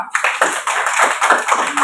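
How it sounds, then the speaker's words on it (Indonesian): A group claps together during a classroom lesson, a dense, steady patter of many hands filling the whole stretch, loud and close. "Tepuk tangan untuk kita semua"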